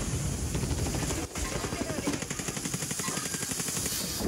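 Helicopter rotor thumping steadily through a tactical shooter match on the Nuke map, mixed with rapid gunfire bursts and a dense wash of game noise, loud and continuous throughout.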